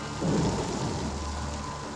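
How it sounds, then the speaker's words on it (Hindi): A thunderstorm rumbles outside a bedroom window, with a deep roll of thunder swelling early and then fading under steady, hissing rain that continues alone throughout. "वो कमरे की खिड़की, खिड़की से आने वाले तूफान का शोर"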